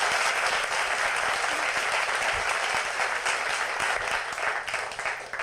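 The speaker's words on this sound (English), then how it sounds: "Woo, applause." Loud, dense applause from a large crowd, continuous clapping throughout with no pauses.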